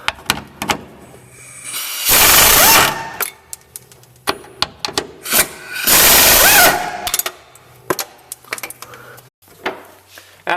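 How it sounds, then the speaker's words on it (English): Ratcheting wrench loosening two 13mm bolts on the emergency brake adjuster assembly of a Jeep Wrangler Rubicon, heard as two long, loud bursts of rapid clicking, with brief knocks and handling noise between them. "we'll remove these two 13mm bolts right here"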